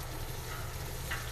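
Celery and onion sizzle steadily in bacon drippings for a minute-long soup base, a soft continuous frying hiss with faint crackles, heard close with no voices.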